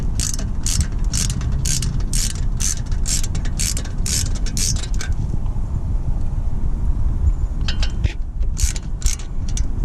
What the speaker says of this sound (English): Found it easy to remove the ratchet once again, once it's loose enough to unscrew by hand.